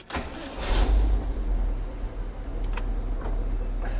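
A 1975 Ford F100 4x4 pickup engine runs with a loud low rumble close by, swelling as it pulls away and then settling into a steady drone with a few faint clicks.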